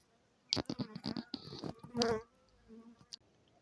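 Honey bees buzzing at hives during a mite fumigation treatment, heard as several close, brief buzzing passes of individual bees rather than a steady hum, with quiet gaps between them.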